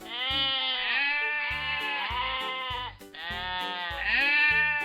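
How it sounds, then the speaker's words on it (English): Sheep bleating in a farm-animal sounds lesson for children: about four loud, close, wavering baas in quick succession, each sustained and quavering, with no talking over them. "Sheep say baa."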